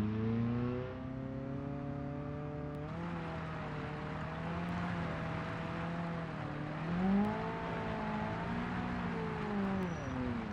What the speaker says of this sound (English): Sounds like that clutch. It's working overtime.